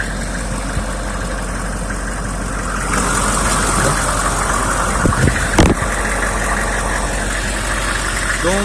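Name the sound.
6.5 litre turbo diesel engine idling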